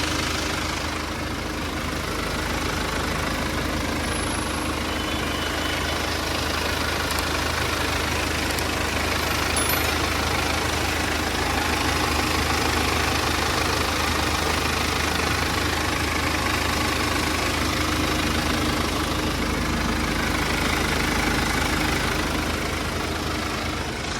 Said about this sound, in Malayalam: ഇനി എൻജിൻ റൂമിൽ ശബ്ദം കേട്ടോ, വണ്ടി ഓണാക്കി ഇട്ടേക്കാണ്, വണ്ടി ശബ്ദം കേട്ടോ.